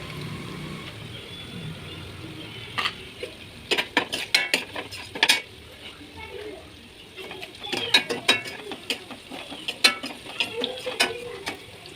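Onions frying in a pan with turmeric and salt, stirred with a metal utensil that gives repeated clinks and scrapes against the pan over a low sizzle, close and fairly loud in irregular bursts, with no talking.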